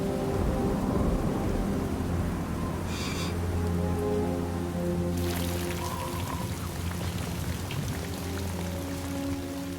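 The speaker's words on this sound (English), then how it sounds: "But the rain isn't stopping." Heavy rain pours steadily with deep rolling thunder on an exposed mountain cliff face, the downpour loud and continuous, a sharp crack of thunder breaking in about halfway and rumbling on under the rain.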